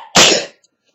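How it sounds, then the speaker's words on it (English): One loud, close sneeze bursts out abruptly, then silence follows. "I think I'm gonna sneeze."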